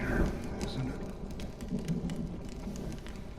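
Steady rain pours down in the Honkai Star Rail video game, a dense, even hiss with soft patter that fills the whole moment without a break.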